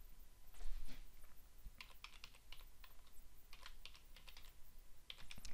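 Someone types a password on a computer keyboard in irregular bursts of quick, fairly soft keystrokes, heard close up with no talking.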